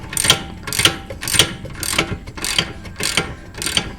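Close ratchet wrench tightening a nut on a Mk4 Jetta rear shock, seven evenly spaced rasping clicks about every half second, loud and alone.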